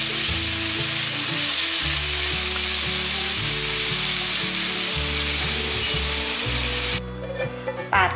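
Carrot and king oyster mushroom stir-fry in a pan, a loud continuous sizzle with background music throughout, the sizzle dropping away near the end while the music carries on.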